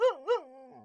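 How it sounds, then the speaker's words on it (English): A dog gives two quick yelping barks that trail into a short whine, close and clear with nothing else around it. "A dog barking."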